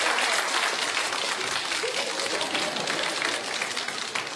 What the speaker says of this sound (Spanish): Aplausos para Marce.